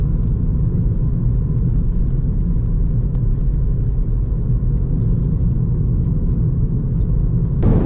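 A Volkswagen Golf GTI Mk7 hot hatch driving at a steady pace, heard from inside as a constant low rumble of engine and road noise, with no talking.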